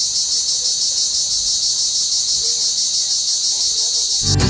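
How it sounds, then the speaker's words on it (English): A dense, steady high-pitched chirring of cicadas in the South African bush of Kruger National Park fills the air without pause, loud and continuous, with a faint thump right at the end. "Cicadas are a sound of the bush."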